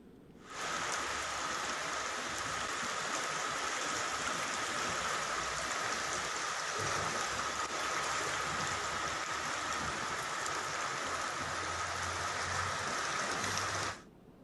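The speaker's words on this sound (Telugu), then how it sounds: "ఇక వర్ష బీభత్సంతో రోడ్లన్నీ జలమయమైనట్లు మనం చూస్తున్నాం" Heavy rain pours steadily over flooded city roads in Hyderabad, a dense, continuous hiss of falling water that starts abruptly, holds at an even level for over ten seconds and then cuts off.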